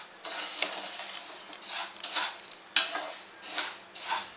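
Rice being dry-roasted in a pan for Diwali chakli bhajni flour, stirred with a utensil in repeated scraping, rustling passes that come close and fairly loud, with no voices.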